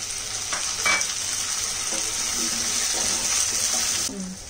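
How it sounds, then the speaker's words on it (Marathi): Chopped potatoes hit a pan of garlic and green chili frying in oil, giving a loud, steady hiss with a few faint knocks and clinks. "आपण त्याच्यात आता बटाटा टाकूया। चिरलेली बटाटी टाकायची आहे।"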